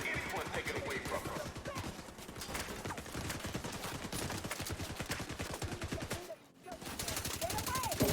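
Rapid automatic gunfire from a video game shooter streamed over a cloud gaming service rattles almost nonstop at moderate loudness, pausing briefly near the end before resuming.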